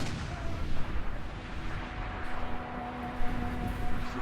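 Cannon fire in the fantasy battle video game Total War: Warhammer, heard as dull distant booms within a dense, rumbling din of battle, with no talking.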